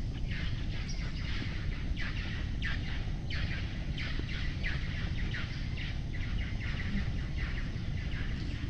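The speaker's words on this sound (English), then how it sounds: "Those are Red Lord parrots." Red-lored parrots calling at the Maya ruins of Tikal, a steady chorus of harsh squawks and chirps from a flock, moderately distant, over continuous background noise with no speech.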